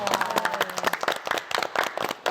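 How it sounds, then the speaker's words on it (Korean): Studio audience applauding after a taekwondo performance on a morning television show, scattered distinct claps with uneven rhythm and some voices mixed in. "아, 박수 한번 보내드립니다."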